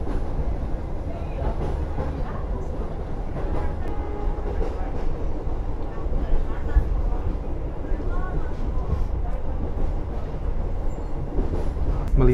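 A passenger train rolls across the Merawan bridge in Indonesia, its steady rumble and rhythmic wheel clatter continuous and close for the whole stretch, with a voice faintly present under the rail noise.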